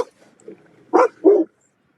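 A dog gives two short, close barks in quick succession after a few faint soft noises, with quiet in between.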